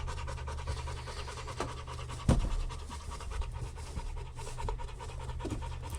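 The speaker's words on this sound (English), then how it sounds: "Yeah, you are panting hard." A dog pants hard and fast right after a treadmill run, the rapid rhythmic breaths close and continuous over a low mechanical hum, with one brief knock midway.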